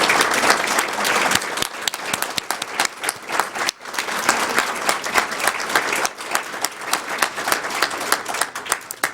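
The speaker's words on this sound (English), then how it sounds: "I'd like to have us applaud him because of his generous work with that organization" An audience at an earth conference gives dense, sustained applause for about nine seconds, the clapping briefly dipping midway before swelling again.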